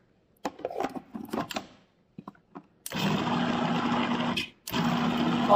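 A kitchen blender pulsing frozen bananas and strawberries into nice cream: a few light clicks and knocks, then two loud bursts of motor roar separated by a brief pause.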